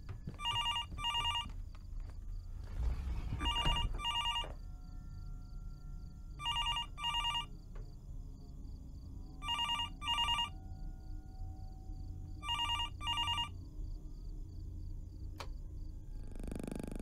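A telephone ringing in the Fears to Fathom horror game, repeated double-burst electronic rings at steady intervals over a low ambient hum, with a brief rustling bump early on.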